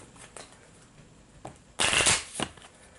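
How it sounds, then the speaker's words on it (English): A deck of cards shuffled during a Pathfinder tabletop session: soft scattered riffles, then one loud, dense flurry of flicking cards near the microphone, trailing off into quieter handling. "So let me shuffle him in."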